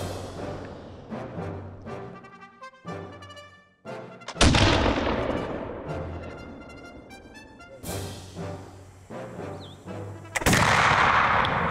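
A Nock volley gun discharges its seven barrels at 25 yards, heard as three separate loud, booming blasts, each with a ringing decay, with musical tones between them.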